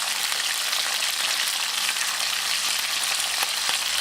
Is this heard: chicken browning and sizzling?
yes